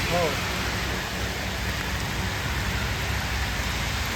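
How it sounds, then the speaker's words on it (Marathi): Heavy rain pours down without a break, a loud, even hiss that fills the whole stretch with no pauses. "पाऊस नॉनस्टॉप पडत होता"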